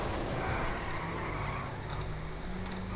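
A car skids in GTA 5, a broad rushing tyre scrape over a low engine rumble, steady and fairly loud across the few seconds.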